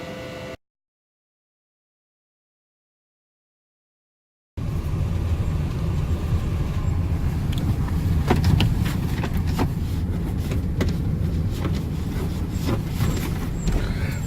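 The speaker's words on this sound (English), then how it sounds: "So we're just having a drive through Castleton now." A van drives through Castleton past the Christmas lights, heard from inside as a steady broadband road and engine rumble. It begins after a brief silent gap and continues without speech.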